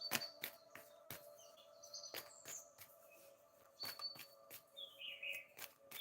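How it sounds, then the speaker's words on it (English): Recorded birdsong plays faintly indoors: scattered chirps and trills with a thin insect-like buzz underneath. Sharp clicks and knocks break in at irregular moments. No one speaks. "they are real birds. They're just like it's a recording."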